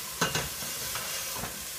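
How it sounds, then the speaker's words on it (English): Shrimp egg roll filling is stirred in a hot pan: a utensil scrapes and clacks against the pan a few times over a constant soft sizzle, close by and with no voices. "So now I stir that up a little bit."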